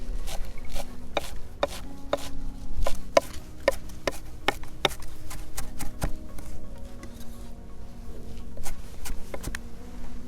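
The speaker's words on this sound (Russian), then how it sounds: "И мелко измельчаем зелень." A knife finely chops fresh cilantro on a board, giving a steady run of close, crisp taps at an even, brisk rhythm with no talking.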